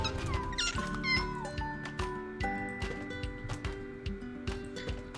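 Ragdoll kitten meows from the video game Kitten'd, several short game-cat cries over a rhythmic ticking, clip-clop-like beat and steady music tones.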